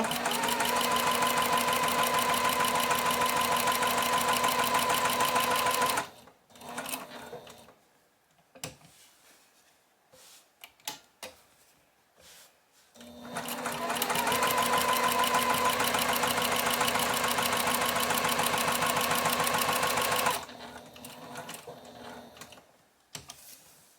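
A sewing machine stitches a sampler quilt block in two long, steady bursts of fast, even whirring, each running for several seconds, separated by a quiet pause with faint handling clicks.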